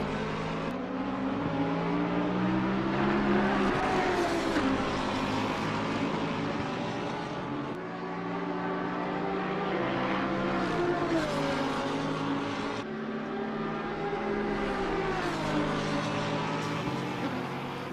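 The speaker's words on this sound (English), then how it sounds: "Watching the cars coming up through the middle of the mountain here." Race cars lapping Bathurst's mountain section in a sim racing six-hour endurance event, with several engines blending into a continuous, moderately loud drone whose pitch rises and dips as the cars climb and shift.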